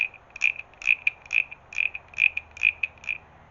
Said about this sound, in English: this little frog, you take this stick out and you rub it.